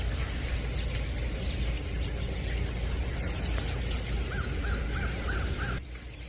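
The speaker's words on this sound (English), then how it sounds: "Obviously I can hear the crow." A crow cawing in Maine in late December, a run of about five evenly spaced caws midway through over a busy background of other chirping birds.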